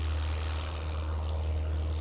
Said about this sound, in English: this little plane, pretty cute little plane, is privately owned. It's a Piper Tomahawk.